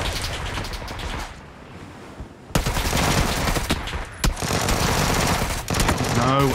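Bursts of automatic gunfire in PUBG, a rapid volley after a quieter lull and further sharp shots, loud and close, with faint talk briefly in between.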